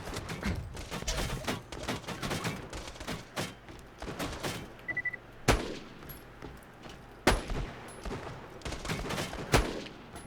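Rapid bursts of gunfire from turrets and weapons in the Borderlands 2 video game, with sharp shots and repeated volleys rattling throughout, some loud single cracks standing out.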